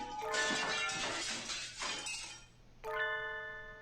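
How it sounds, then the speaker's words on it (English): A glass object shattering with a crash in the video game Hatoful Boyfriend, a bright smashing burst with tinkling shards trailing off, followed by a ringing chime-like tone. "Some glass object splinters with a monumental crash behind us as we make for the exit"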